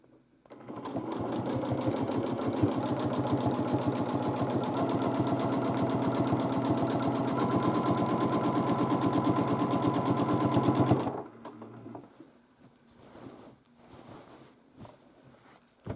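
A domestic sewing machine does dot to dot quilting on a large quilt, running fast and evenly in a rapid mechanical chatter for about ten seconds, then stopping and leaving faint handling noises.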